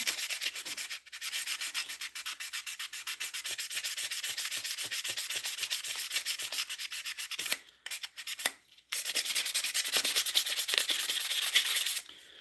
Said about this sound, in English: We'll sand off the bottom side.